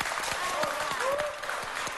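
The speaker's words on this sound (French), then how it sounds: "Applaudissez si vous êtes d'accord." An indoor audience at a makeover event claps briefly, giving a soft, fairly distant patter of applause with scattered sharper claps, under faint background voices.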